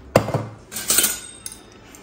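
A spoon clinking and scraping against a metal pot while sugar is stirred into apple kheer, a few sharp taps followed by a brief scrape and a faint final clink.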